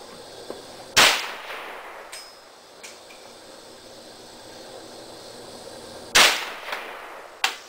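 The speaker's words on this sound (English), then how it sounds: "go ahead and shoot it again." An AK rifle fires at a jug outdoors, two loud, sharp shots spaced about five seconds apart, each with a brief ringing tail, plus a few fainter clanks and knocks in between.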